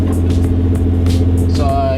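A Nissan 350Z with a newly replaced clutch idles close by with a steady low rumble, and someone talks over the engine.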